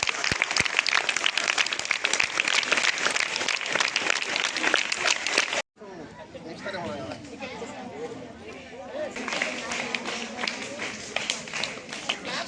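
A hall audience claps for tenth-class students being honoured at a school awards function in Tada, Tirupati district. Dense, loud applause runs for about five seconds and cuts off abruptly. Quieter scattered clapping and crowd chatter follow.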